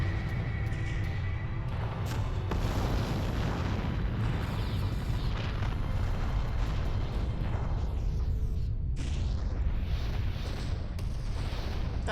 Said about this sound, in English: That is a large explosion.